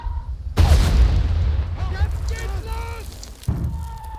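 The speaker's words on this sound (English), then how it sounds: "And there goes 2 grenades." Two grenades blow up in a World War I style video game, a heavy boom followed later by a second, with a voice talking between the blasts.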